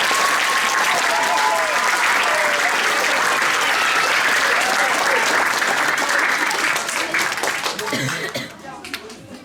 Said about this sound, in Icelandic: Klöppum fyrir þeim, hér kemur 4. bekkur.